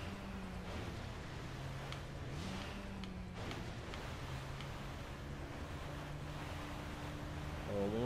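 Ocean waves in the Resident Evil 4 video game rush as a steady noisy wash with wind-like hiss and low engine-like hum tones, moderately faint and continuous, without talk.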